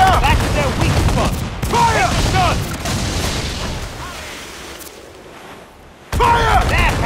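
Ship cannons firing during a naval battle in Assassin's Creed IV Black Flag Freedom Cry: booming volleys land in bursts under loud, urgent shouting, with a brief lull before another heavy barrage.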